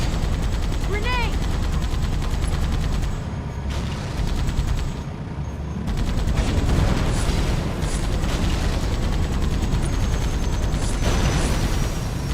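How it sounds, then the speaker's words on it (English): Chaotic battle in the Halo 2 Rebalanced Metropolis bridge map, with continuous heavy gunfire and booming blasts that include a grenade explosion, loud and close throughout. "Grenade!"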